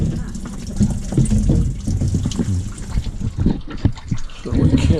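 Liquid gushes and splashes out of an overheating Detroit 6V92 diesel engine on a Country Coach motorhome. The pour is loud, close and continuous, with voices mixed in.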